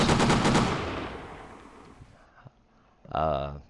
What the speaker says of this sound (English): Now that it ejects shell casings, sorry that's kind of loud.